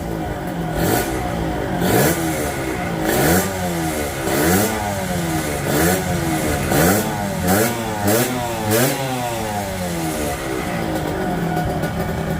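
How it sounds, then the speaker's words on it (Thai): A Yamaha TZR150 two-stroke motorcycle engine revved repeatedly on a bench, a buzzy ring-ding note blipped up and down in rhythmic rising and falling waves, loud and close, no talking. "ขอเบิ้ลอีกรอบหนึ่ง ทิ้งท้ายทิ้งท้าย ก่อนเครื่องมันจะ ร้อน"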